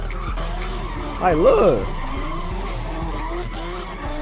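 A car slides with a brief rising-and-falling tire squeal over a steady engine drone, somewhat distant, while a person talks briefly nearby.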